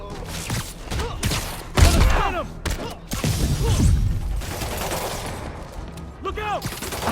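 Gunfire in Spider-Man Remastered on PS5: scattered bursts of shots and heavy thuds crackle through a fight, with voices shouting over the shooting.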